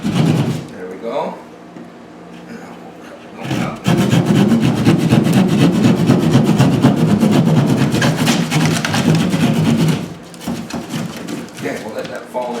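A drywall patch piece being cut along a marked line during a no-sanding hole repair, producing a steady, close rasping and scraping that runs for several seconds, pauses briefly, then resumes, with a voice talking over parts of it.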